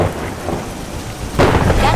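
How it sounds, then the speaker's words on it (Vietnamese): Thunderstorm at sea with heavy rain hissing steadily and a loud rumbling clap of thunder bursting in near the end, all without voices. "Đang có bão lớn"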